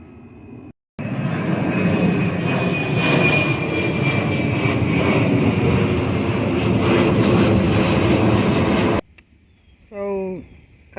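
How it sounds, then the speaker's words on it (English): A fixed-wing airplane passes over a home garden in late August with a loud, steady engine roar. The noise cuts off abruptly, then a voice speaks briefly. "Oh, got another plane."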